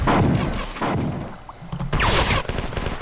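Gunfire in the shooter game Marathon 2: Durandal, a run of sharp loud shots and booms in close bursts with short gaps, dense and near.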